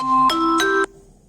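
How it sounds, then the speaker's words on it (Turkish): A short phone notification chime: two bright electronic tones in quick succession with a third note held briefly, then a short ringing tail, clear and close with no talk over it. "Affedersiniz bildirim geldi."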